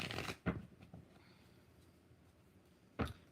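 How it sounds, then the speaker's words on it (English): Tarot cards are shuffled close by, giving two sharp riffling bursts with a quieter stretch of soft handling between them and no talking. "4 more shuffles."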